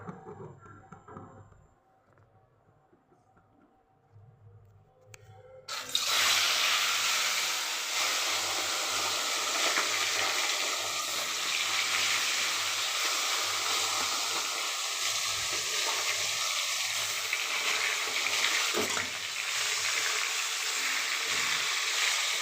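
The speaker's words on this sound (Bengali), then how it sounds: "এখানে তেল গরম করতে বসিয়ে দিয়েছি, তেল গরম হয়েও গেছে। এবার মাছটাকে আমি ছাড়ব।" Sorputi fish dropped into hot oil, a sudden loud sizzling hiss that starts a few seconds in after quiet kitchen movement and then holds steady and close.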